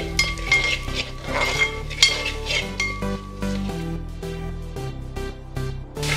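Ingredients for a Kerala-style lemon curry, including crushed mustard and asafoetida powder, are stirred and mixed in a pan, with steady scraping and clinking of a spoon against the metal over a soft sizzle and faint background music.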